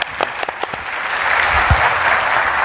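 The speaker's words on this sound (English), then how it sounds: "Let's give him a round of applause." Audience applause at a press launch event, a burst of clapping that swells and holds steady across the room, with a few sharp individual claps at the start.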